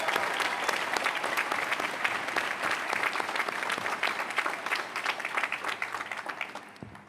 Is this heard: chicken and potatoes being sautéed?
no